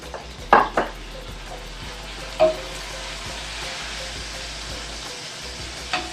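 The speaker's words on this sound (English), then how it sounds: "Stir that around" Food stirred around in a hot pan, a low steady sizzle under a few distinct utensil knocks and scrapes against the metal, spaced irregularly and heard up close without talk.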